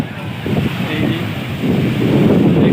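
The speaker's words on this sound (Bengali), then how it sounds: "এই যে পুরো সমুদ্রের ঢেউ" Sea waves at Old Digha beach roll in as a broad, loud rushing surge that swells toward the end, heavily mixed with wind buffeting the microphone.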